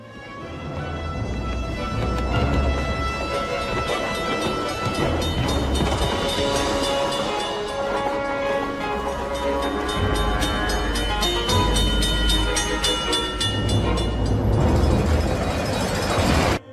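A moving train rumbles steadily and loudly throughout, a dense continuous roll of wheels and carriage noise with ringing metallic tones layered on top, heard from aboard the train.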